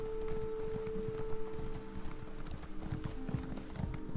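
A horse gallops with rapid rhythmic hoofbeats in the video game Elder Scrolls Online. The drumming is steady and close, with a constant tonal hum behind it and no talking.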